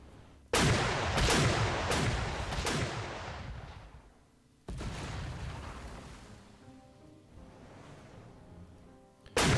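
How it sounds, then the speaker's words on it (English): A naval torpedo attack on an enemy cruiser in the strategy game Panzer Corps 2 is set off by a quick burst of four sharp booms, then a lone blast followed by a long rolling rumble. "we'll go ahead and torpedo this enemy cruiser"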